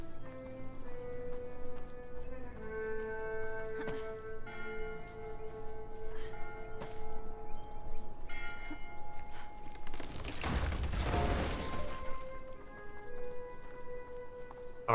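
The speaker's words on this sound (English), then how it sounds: "Our mere presence is so unfortunate that we broke the bell tower." In the video game Bramble: The Mountain King, a bell tower bell breaks: sustained ringing bell tones and scattered knocks lead into a loud, crashing burst of noise near the end, then lingering tones fade out with no talking.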